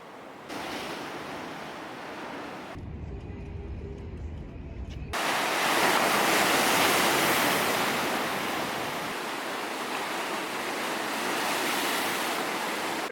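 South Atlantic surf at Mar del Plata out of season rolls in as a steady broadband roar with wind. A quieter lull in the middle gives way to a louder, closer surge of breaking water.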